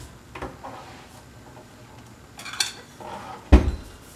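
Kitchen dishes and a plate get handled with a few scattered clinks and knocks, then one sharp, louder clatter near the end, all close by with no talk.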